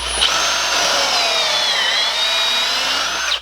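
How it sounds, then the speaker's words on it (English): A power drill boring holes in wood whines steadily at high speed for a few seconds, loud and close, then spins down abruptly. "So we're going to drill some new holes."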